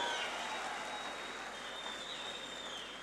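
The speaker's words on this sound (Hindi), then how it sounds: "अपने लिए ताली बजाओ बेटा, सारे के सारे जोर से बजाओ, और जोर से बजाओ" Children at a literature festival opening ceremony in Quetta clap together, a dense, even wash of applause heard from a distance at low volume for about three seconds.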